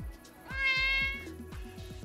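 A Minecraft cat gives one clear, drawn-out meow in the foreground, with soft thumping footsteps or movement sounds before and after.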